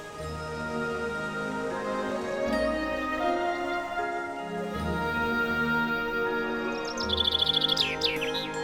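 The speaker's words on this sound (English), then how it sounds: "A pair of ospreys." A pair of ospreys in the Scottish Highlands in spring give a few sharp chirping calls, clear and fairly close, over a background of music.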